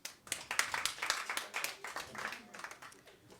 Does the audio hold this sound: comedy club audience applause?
yes